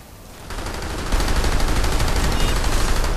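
Rapid automatic gunfire from the online shooter game PlanetSide 2, loud and continuous bursts that start quieter and swell into a dense, sustained barrage, with no talking over it.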